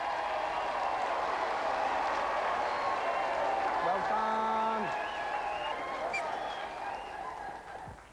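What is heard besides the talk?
studio audience applause for contestants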